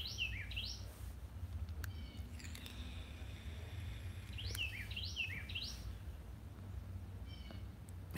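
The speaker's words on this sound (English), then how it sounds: "The bird keep you guys entertained while I was gone." Short bursts of bright songbird chirps, twice in quick clusters, ring out over a steady low hum, fairly near and moderately loud, with no talking.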